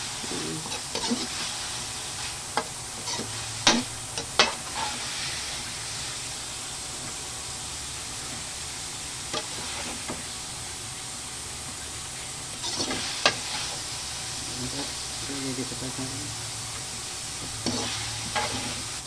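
Pork and liver for igado are stirred in a pan over a continuous soft sizzle, with intermittent scraping and clacking of the utensil against the pan in short bursts.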